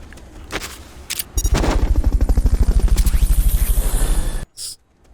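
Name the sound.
Fulton recovery helicopter in Metal Gear Solid: Peace Walker video game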